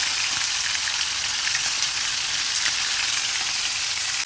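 Chicken 65 sizzling steadily in hot oil in a home kitchen, a dense, even hiss of frying crackle with no talk, constant and fairly close throughout.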